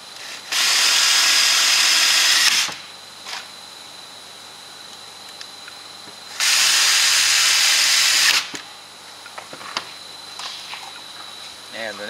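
Power drill driving short screws to fix a brace onto wooden planks, two loud sustained bursts of whirring about two seconds each, with quieter handling noises and some talk between them.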